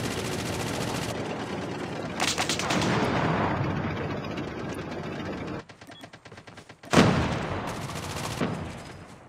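Gunfire in a battle royale shooter, with rapid bursts of automatic fire rattling loudly and close, a brief lull, then a sharp renewed volley and continued shooting, with no talk.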